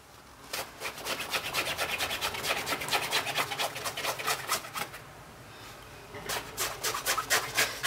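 Rapid, rhythmic back-and-forth rubbing on denim shorts being distressed, a close, soft scratchy swishing repeated in quick strokes, pausing briefly before resuming.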